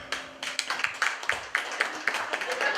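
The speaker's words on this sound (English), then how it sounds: "Clap if you guys love relationships." A comedy club audience claps in a quick, fairly even rhythm of repeated hand claps, with some voices mixed in.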